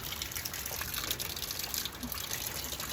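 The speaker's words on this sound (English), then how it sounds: "Something's leaking." Water leaking and gushing steadily in a dim underground space, a continuous broadband rush with splashy detail throughout, fairly loud and unbroken.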